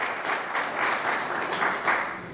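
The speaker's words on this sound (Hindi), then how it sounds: "ताली बजाइए उनको लिए जो वो चला रहे हैं।" An audience claps at a public political speech in Hindi, a dense, steady burst of applause from many hands lasting a couple of seconds, fairly close and loud.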